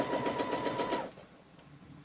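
A sewing machine stitches along a quilting ruler in a fast, rhythmic burst of needle strokes lasting about a second, then stops, leaving a faint click after the motor halts.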